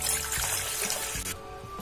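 Water poured into an idli maker pot in a home kitchen, a close trickling and splashing stream that runs for about a second before it stops, leaving a quiet tail. No voices.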